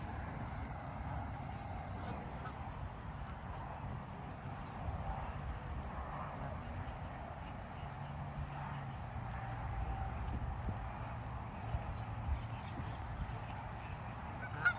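Geese honk and call in an outdoor grassy area near water, faint scattered honks over a low, steady background rumble that lasts throughout.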